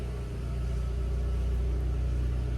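Seat Ibiza Cupra 1.8T 20VT engine running steadily at a repair shop, a loud, close, continuous low rumble with an even idle throb and no voices.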